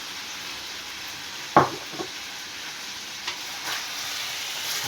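Diced liver frying in a home kitchen pan, a steady soft sizzle with a sharp clatter near the start and a few lighter stirring knocks after it.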